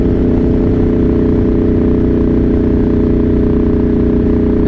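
A Ducati Multistrada motorcycle engine cruises in fourth gear at about 3000 RPM and 80. It makes a steady, loud, close drone with rough low rumble and wind noise, unbroken for the whole stretch, with no talking.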